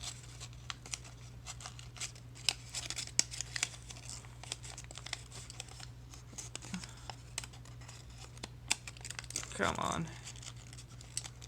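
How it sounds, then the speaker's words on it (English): Origami paper folded down along a diagonal crease while making a Tetris L-tetrimino, with soft crinkling and crisp paper ticks scattered through, close and light under occasional talk and a steady low hum. "we're just going to fold it down using the diagonal crease that's right there"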